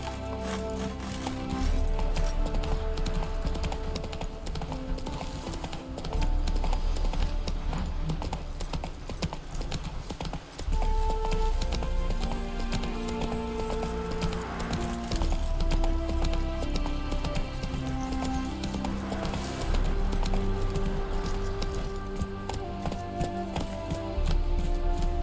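Rhythmic clip-clop of a horse's hooves galloping steadily in The Witcher 3, the horse Roach running continuously under a layer of game music, loud and close throughout.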